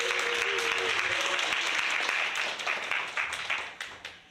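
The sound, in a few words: audience applause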